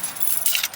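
Keys jangle faintly in a pocket beside a 2019 MUX vehicle during a mirror installation: a brief, soft metallic rattle over quiet background noise.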